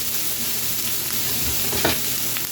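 Mushrooms and onions sauté in a hot pan as a side for a coffee-rubbed T-bone, giving a steady close sizzle with a brief stir-scrape, no speech.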